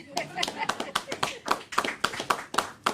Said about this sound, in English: I'll let you clap for that one